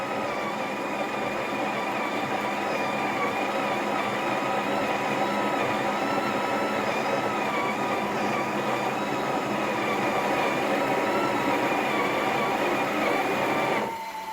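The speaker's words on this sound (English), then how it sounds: "So very easy to grind. You just put on the portafilter and turn it to the right." Breville Oracle BES980 espresso machine grinding coffee into a portafilter: a steady, loud motorized whirr holds constant for about fourteen seconds, then cuts off abruptly, with no talking.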